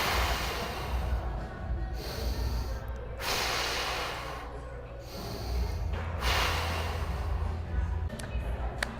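Steady breathing while holding a plank on the hands, with audible inhales and exhales, snort-like nasal breaths, recurring at a slow, even rhythm, close and fairly quiet.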